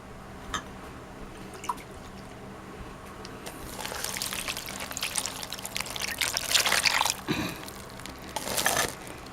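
Jerk marinade is poured over a pork roast in a slow cooker, with soft splashing and trickling that begins faintly, then swells into several wet pours and drips before trailing off.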